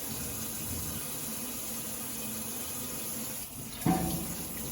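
Eggs are rinsed under a running kitchen tap, a steady close rush of water pouring into the sink with a brief splash change near the end.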